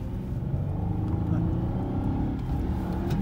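A 1999 Jaguar S-Type 3.0 V6 engine is revved, giving a deep, steady rumble that swells slightly, close by, with a voice briefly heard.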